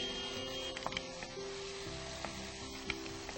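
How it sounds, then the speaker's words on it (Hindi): Masala with ginger and yogurt sizzling while frying in a pan, a steady quiet crackling sizzle with occasional soft pops and stirring clicks. "मसाला भी ये भुनना शुरू हो गया है पूरा।"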